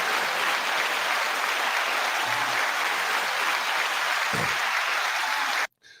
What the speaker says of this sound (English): 9-second applause to you all.